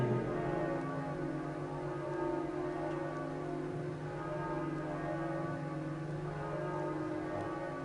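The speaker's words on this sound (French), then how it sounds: "Écoutons ces cloches qui retentissent pour dire au monde entier et surtout à Chalindré que le Christ est ressuscité." Church bells ring for an Easter vigil, a dense, sustained wash of resonant tones that fills the whole stretch evenly without pause and without voices.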